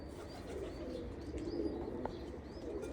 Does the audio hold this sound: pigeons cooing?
yes